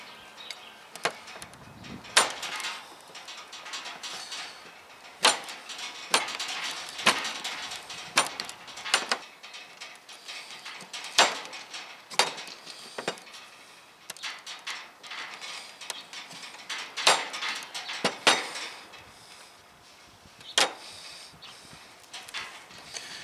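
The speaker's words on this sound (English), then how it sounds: "So let me start cutting this off. Shave off our beeswax." Repeated sharp scraping strokes of a knife shaving a block of beeswax, each stroke a brief crisp rasp at close range, irregularly spaced across the span with quiet gaps between, no voices.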